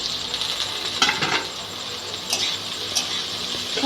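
Teasel gourd and potato slices fry in oil with mustard and dried chilli in a wok, giving a continuous close sizzle broken by scraping, clattering stirs of a spatula against the pan.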